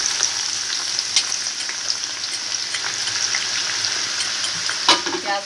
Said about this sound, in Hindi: और ये प्याज को ऐसे मसल के डालेंगे क्योंकि अच्छी गोल्डन फ्राई होगी ये।